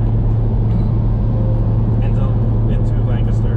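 A car cruising along Route 30 toward Lancaster, a loud, constant low road-and-engine rumble from inside the cabin that runs throughout, with faint voice-like sounds near the end.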